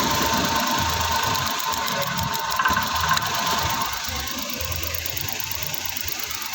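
A Suzuki DA64 engine idles smoothly and steadily after a cylinder misfire repair, heard up close as an even mid-pitched hum with no talking.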